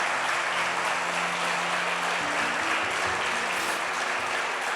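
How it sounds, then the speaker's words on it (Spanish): A church congregation claps steadily and loudly in praise to the Lord, dense and even throughout, with faint murmuring beneath. "Denle un aplauso al Señor,"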